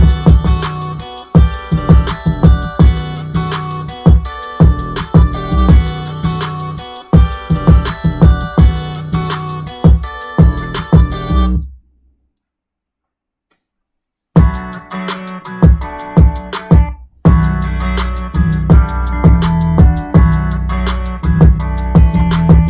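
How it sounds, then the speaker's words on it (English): A hip-hop beat plays loud and upfront, with punchy drums, two booming 808s and a single melody looping in a steady groove. It drops to silence for a couple of seconds midway, then comes back in, with no talking. "So altogether the beat just sounds like this."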